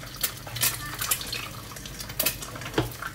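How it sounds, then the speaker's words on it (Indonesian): Eggs going into a hot pan for spicy fried rice: soft sizzling with scattered clinks and scrapes of utensil against pan, a few sharper taps, close and moderate in volume. "Ini udah panas. Masukin telur dulu."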